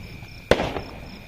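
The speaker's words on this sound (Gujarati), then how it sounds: "ફટાકડા ફોડવાની બહુ મજા આવી" A single Diwali firecracker bursts with a sharp, loud bang at mid-clip, then trails off in a brief crackling decay over quiet outdoor background.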